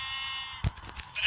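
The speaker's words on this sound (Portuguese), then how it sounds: "Mais uma ovelha, já achei." A video-game sheep gives a short bleat, a single wavering call that lasts about half a second, heard at moderate volume with no talk over it.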